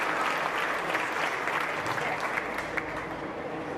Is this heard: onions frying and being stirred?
no